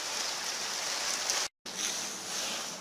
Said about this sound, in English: It's fucking all coming down out there. It's raining, boys.